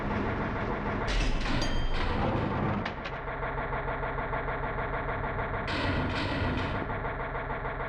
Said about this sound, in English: Sounds like an engine is on?